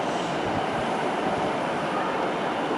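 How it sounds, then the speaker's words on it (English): Class 153 diesel train pulling into a station, a steady loud rumble of engine and wheels with rail noise that stays constant throughout, no voices. "there's a class 153 arrived"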